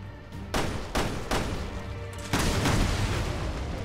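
Gunfire in Resident Evil Revelations 2 Raid Mode: several sharp shots ring out at uneven intervals, about five loud reports, with a heavier burst near the end over a continuous low game rumble.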